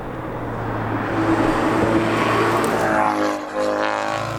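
Tuned Subaru STI with a big turbo, around 400 wheel horsepower, accelerates with a loud, steady engine drone that rises in pitch, heard from inside the car on a canyon road.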